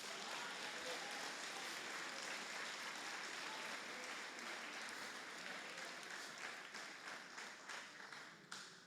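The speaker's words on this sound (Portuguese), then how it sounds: "Se você é o Deus, dê uma salva de palmas para Jesus." A church congregation at a Lord's Supper service claps for Jesus, a thick, sustained burst of many hands that loosens and thins slightly toward the end, with faint voices mixed in.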